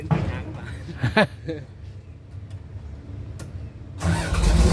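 A heavy diesel engine of a PC200 excavator, long left parked, cranks and rumbles to life, its low drone growing louder at the end, with voices talking nearby.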